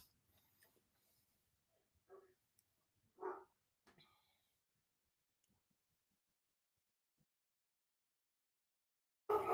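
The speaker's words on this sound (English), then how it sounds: "sorry about the dogs" Dogs bark at an Amazon delivery in a few separate short, distant bursts, with long quiet gaps between them and a louder burst at the very end.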